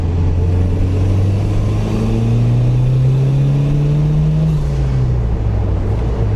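A turbocharged Datsun wagon with a GT3582 turbo and the boost controller bypassed accelerates hard, its engine note rising steadily in a loud, close, droning pull before easing off near the end, with no voices over it.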